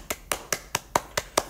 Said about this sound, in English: Guys, give a round of applause for Miss Murphy.